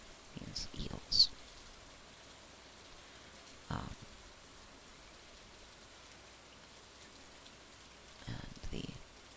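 Soft, steady rainfall patters at night in the Stardew Valley farming game, a faint continuous hiss with a few brief louder splashes and sounds; a voice talks quietly over it.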